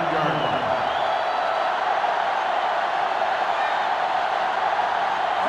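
A sellout stadium crowd in the video game NCAA Football 2005, Georgia Tech against Georgia, gives a constant dense roar, loud and even throughout.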